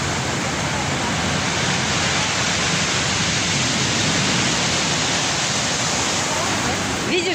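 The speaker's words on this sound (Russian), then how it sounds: "Это волна." A continuous heavy roar of stormy sea waves crashing on the shore at Sochi, dense and loud, surging without pause and close by.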